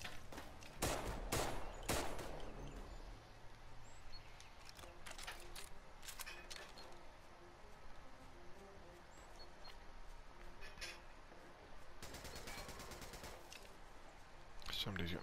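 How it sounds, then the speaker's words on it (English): Machine gun fire in the World War II shooter Raid: World War II, heavy bursts near the start and again around the twelve-second mark over a steady battle din, with a voice talking at times. "Somebody's got a machine gun."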